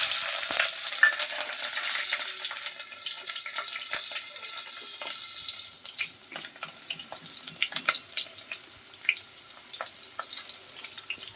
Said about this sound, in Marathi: कांद्याची फोडणी घालू आधी आपण.